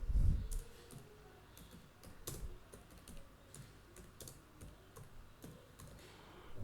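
Someone types on a computer keyboard while filling in an online registration form, producing scattered, uneven key clicks at close range with pauses between bursts and no talking.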